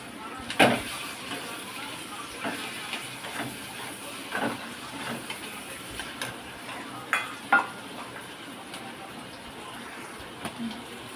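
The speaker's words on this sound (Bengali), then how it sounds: "তরকা বসিয়ে দিয়েছি" Tempering (tadka) with onions and spices sizzling in a pan in a home kitchen, a steady soft hiss broken by occasional clinks and stirring taps, with people speaking at times.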